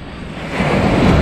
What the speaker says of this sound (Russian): Мой первый океан в жизни, Атлантический.